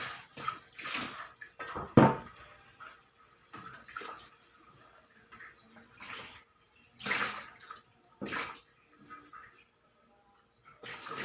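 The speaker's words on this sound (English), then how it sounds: "Rinse with fresh water alone" Bursts of splashing fresh water rinsing a surface before painting come and go in short irregular pours, with quieter gaps of dripping and faint handling noise between them.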